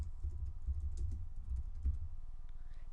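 Keys clatter in a quick, uneven stream as someone types on a computer keyboard at close range. The tapping is soft and dense, and no one speaks over it.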